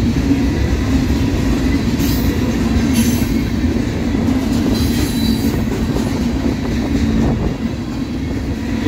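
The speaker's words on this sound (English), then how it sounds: "This is a very massive train too." A long, heavy freight train rolls past at night with a loud, steady rumble of wagons, with wheel squeal and clatter rising over the drone throughout.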